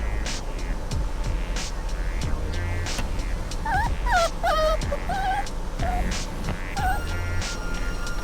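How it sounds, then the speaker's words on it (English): Puppies whimper and yip in a string of high, wavering cries, close and fairly loud, with short pauses between them over a noisy background. "Puppies."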